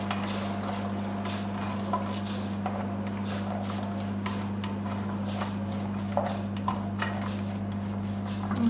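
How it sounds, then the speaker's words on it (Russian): Stirring a radish and cucumber salad dressed with dill and oil in a bowl, soft wet squelching and scattered light clicks of utensil against dish over a steady low electrical hum. "И все это размешаю."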